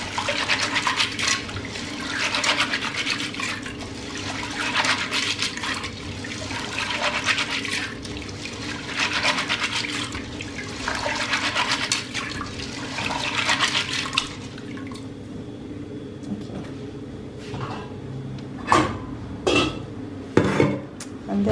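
Red kidney beans are rinsed under running water, a steady rushing splash with pots and utensils clattering for about fourteen seconds, then the flow stops and a few separate metallic clanks and knocks follow.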